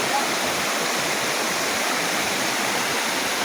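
A jungle river stream rushes steadily near the Curug Kutu waterfall, a loud, continuous broadband roar of flowing water with no break and no voices.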